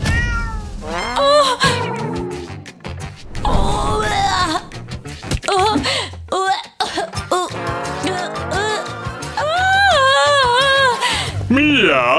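A cat meows repeatedly inside a room of a large villa, loud and close, its drawn-out, rising and falling cries running almost continuously with short coughs or throat sounds mixed in.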